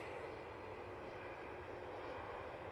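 An Embraer ERJ145 jet arrives from Aberdeen, heard as a faint, steady distant roar of engine noise with no change over the short stretch.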